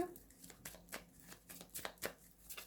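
A tarot card is drawn from the deck and laid down, giving soft papery shuffling and flicking sounds with a few light taps, quiet and close, without talk.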